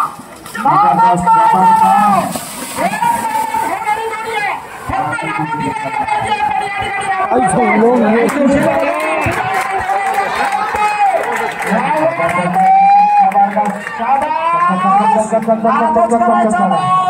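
A pair of village bullocks in a bullock-cart race bring repeated loud lowing calls and a busy crowd roar, with an excited commentator talking over the din almost continuously.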